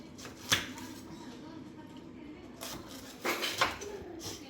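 A knife cuts through food while a garlic chicken roast is prepared, giving a few sharp chopping knocks, one early and a cluster near the end, quiet and close over soft room noise.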